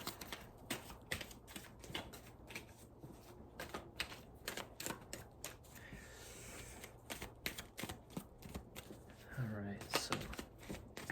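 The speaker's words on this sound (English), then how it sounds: "Let's just gonna walk around and shuffle these cards" Tarot cards being shuffled close up, giving quick, soft, irregular riffles and taps that run steadily with a few louder snaps near the end.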